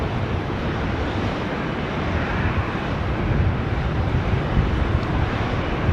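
A Qantas jet takes off from runway 16 right at Sydney Airport, a broad, steady engine roar that builds slightly over six seconds with some wind rush and no talk.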